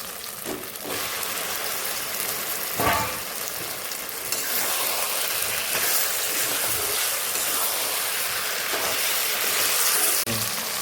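Chicken gizzards and liver fry in spiced oil, giving off a steady, loud sizzle with occasional stirring scrapes across the pan.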